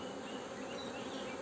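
Black honeybees at an open hive during queen introduction, a dense, steady, close buzzing drone from many wings that holds unbroken throughout, with no talking.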